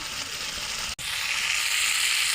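Masala fries steadily in oil with a splash of water, a dense continuous sizzle close up that cuts out for an instant near the middle and then resumes.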